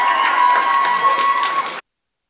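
A crowd at a live gig in Kilkenny claps and cheers loudly for an Irish band, a busy, full sound that ends in a sudden cutoff.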